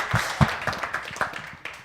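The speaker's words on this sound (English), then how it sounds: "I think Carl deserves a massive, massive round of applause." A small group claps for Carl in an office-style setting, a brief patter of scattered, fairly quiet hand claps that fades within two seconds.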